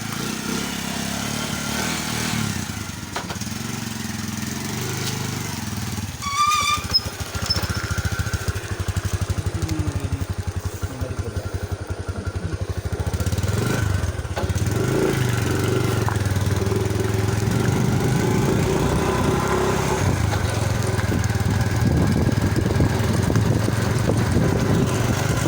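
A motorcycle engine idles and warms up outdoors in a quiet neighborhood, a steady low mechanical drone that runs continuously throughout and grows slightly fuller in the second half.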